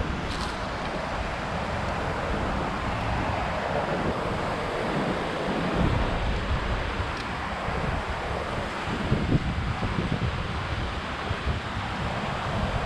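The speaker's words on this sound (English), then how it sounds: "We got a nice waterfall there under this urban bridge." A small waterfall pours under an urban bridge on a city creek, giving a continuous broadband rush of falling water with some wind buffeting, with no voices.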